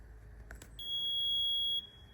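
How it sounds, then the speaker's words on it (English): A newly installed homestead device gives a single shrill electronic beep, a steady high tone held for about a second after a couple of faint clicks, alone in a quiet room. "As you can hear, that beep is so annoying."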